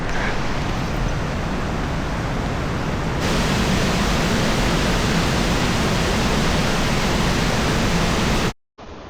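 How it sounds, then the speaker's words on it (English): Horseshoe Falls in the Brecon Beacons, a wide set of waterfalls above smaller lower falls, roaring as a steady, loud broadband rush close by before cutting out abruptly near the end. "So I've made it down to the 8th waterfall, Horseshoe Falls."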